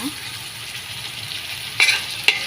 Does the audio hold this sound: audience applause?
no